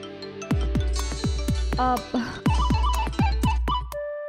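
A mobile phone ringtone plays a bright, repeating melody of plucked, bell-like notes in a steady rhythm, loud and close.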